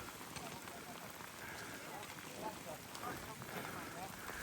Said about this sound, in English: what happens when it rains with the lava. It's starting to evaporate.